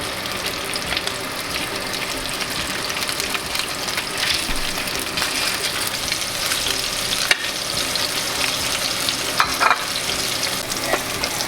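A striped bass fillet fries skin side down in a hot pan and is moved around, giving a loud, close, continuous sizzle with crackling spatters and no talking.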